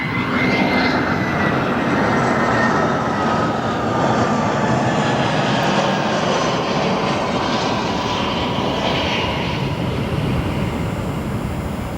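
An airliner arriving at O'Hare airport roars steadily and loudly through the whole stretch, a broad jet engine rush with a rising whine and no voices over it.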